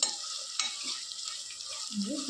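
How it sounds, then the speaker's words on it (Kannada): Onions sizzle and frying steadily while being stirred in a pan, a short close burst of hissing with a soft scrape or clink partway through, no voices. "ಈರುಳ್ಳಿ ಈ ಥರ ಬೇಯಿದೆ"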